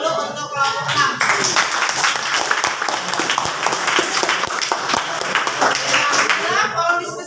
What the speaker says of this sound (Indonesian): Coba kita beri aplaus dulu untuk kelompok 6